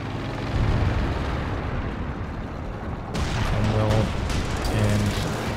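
Artillery and explosions in a Company of Heroes 2 battle give a dense, rumbling barrage with heavy booms. A sharper burst of impacts arrives midway, and a faint voice sits underneath.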